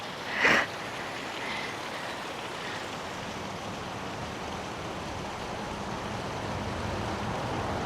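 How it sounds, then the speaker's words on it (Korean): A waterfall on the Oirase stream during autumn foliage, a broad, steady rushing roar of falling water with a brief sharp sound near the start. "폭포."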